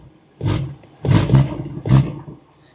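A BMW M140i's engine revs hard in four sharp, close bursts, the middle two nearly back to back, each rising and falling off quickly.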